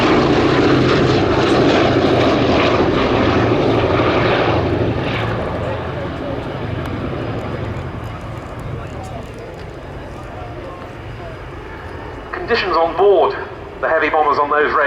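A B-17 bomber's piston propeller engines at an air show drone loudly at first and then slowly fade into the distance. A voice speaks near the end over the fading engine rumble.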